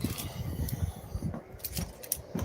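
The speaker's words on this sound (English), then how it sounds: "Keys." A set of keys jangles in short, faint metallic bursts close by, heard while work goes on at an indoor car repair job on a BMW with a misfire.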